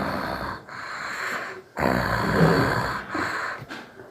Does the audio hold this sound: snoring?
yes